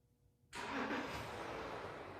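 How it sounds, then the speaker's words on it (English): A 2013 Porsche diesel engine starts by remote starter: quiet idle hum, then at about half a second a sudden loud broadband burst as the engine catches, settling into a steady, close running rumble with no talk. "In a few seconds, the car will start."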